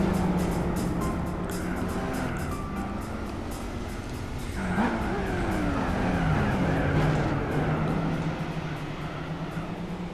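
A car in Gran Turismo 4 spinning its tires in third gear, engine droning and revving with pitch sweeps while tire squeal and skidding run through the whole stretch, close and loud without speech.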